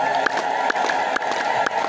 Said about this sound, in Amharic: እልልታ ጨምሩበት።